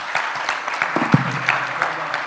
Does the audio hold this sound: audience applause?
yes